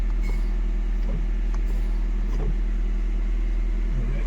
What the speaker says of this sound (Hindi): अभी गाड़ी स्टार्ट कर दिया है